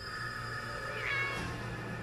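A cat gives a single short meow, close but fairly soft, over a steady background hum indoors.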